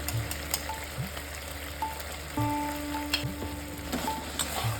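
Soft frying of spices in a pan for a katla fish and poppy seed dish, a steady low sizzle with occasional pops and light scraping, close by and fairly quiet, with no voices.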